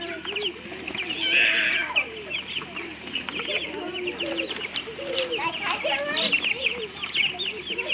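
Chickens cluck and squawk around the listener, with a few louder calls rising above a steady flock murmur and some faint talking nearby.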